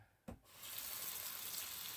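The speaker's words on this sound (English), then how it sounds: "I'm going to turn the water on to hot" A sink tap is opened to hot, and after a brief knock the water gushes in a steady, bright rush that continues evenly to the end.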